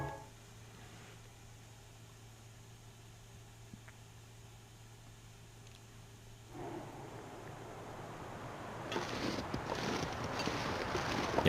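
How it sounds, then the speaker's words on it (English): Wind howling outside in The Long Dark, a steady hiss and rumble that swells louder and rougher partway through and keeps building toward the end, with no talking. "Yeah, it's still pretty windy."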